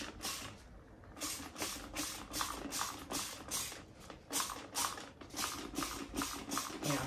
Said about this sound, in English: let's give this guy a little bit of a spray.